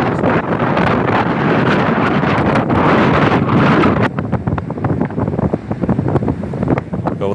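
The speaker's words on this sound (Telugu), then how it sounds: "అయితే విజయనగరం జిల్లాలో ఈదురుగాలులు భీభత్సం సృష్టిస్తున్నాయి" Strong gusty wind roars across the coast of Vizianagaram district, buffeting the microphone in loud continuous blasts that ease slightly and turn choppier toward the end, with no voices.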